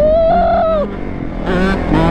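A two-stroke three-wheeler engine revs hard and close, a loud buzzing whine that climbs and drops, then eases off before surging again in short bursts.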